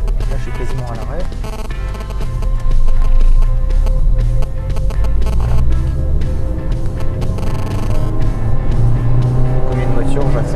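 A Rover 200 engine pulls and rises in pitch as it accelerates in second gear from almost a standstill, with someone talking over the steady mechanical drone.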